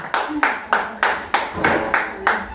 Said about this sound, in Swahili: Ore rasia na icio makofi